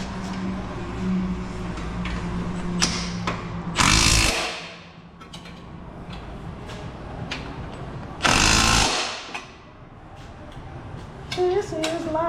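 Power tool, likely an impact wrench, tightening Revel exhaust bolts on a 2022+ Subaru BRZ, with two loud, roughly half-second bursts standing out over a steady low mechanical hum and faint background noise.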